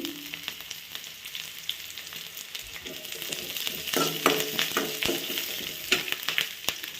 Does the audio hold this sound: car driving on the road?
no